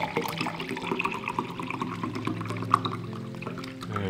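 Sparkling water pours steadily into a glass with a gurgling, bubbling trickle, quiet and close, ending in faint fizz.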